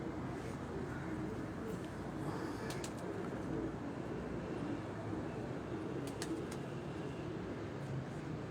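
Pigeons coo faintly somewhere outdoors over a steady broadband hiss, with a few brief higher chirps scattered through.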